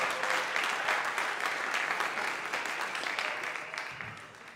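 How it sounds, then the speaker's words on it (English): Applause from the audience at a youth jazz summer workshop symposium, a full, steady clatter of many hands that holds strong and then gradually thins and fades near the end. "Give a round of applause"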